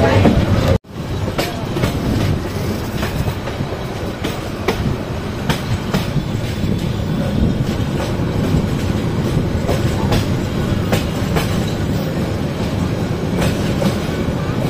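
Kishorganj Express train pulling out of Methikanda railway station, with a brief drop in the noise near the start before a steady rumbling roll and rhythmic clickety-clack of wheels, close and continuous.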